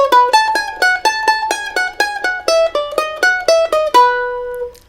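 A mandolin plays a quick phrase from a bluegrass tune, a run of crisp picked notes in steady rhythm with a few doubled tremolo strikes, close and loud, ending on a ringing final note.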